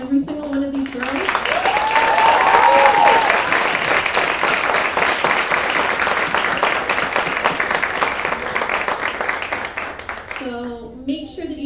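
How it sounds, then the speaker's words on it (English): A pageant audience claps for the contestants in a loud, dense round that swells early, holds steady for several seconds and then fades, with a voice speaking briefly at the start and again at the end. "all of you need to clap for every single one of these girls"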